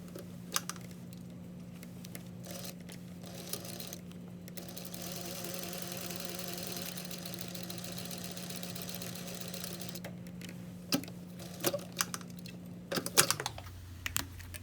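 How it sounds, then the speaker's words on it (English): Sewing machine stitching straight down a tailored placket slit, a steady close mechanical hum with fine rapid needle ticking, ending in a few clicks and a motor stop. "I'm just gonna stitch where the slit is"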